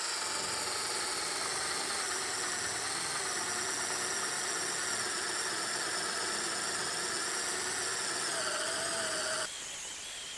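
A THE BLACK TOOLS TB12A cordless drill bores with a 20 mm Chinese flat spade bit, a loud, steady whining motor with strained grinding that runs continuously for about nine seconds, then cuts off abruptly.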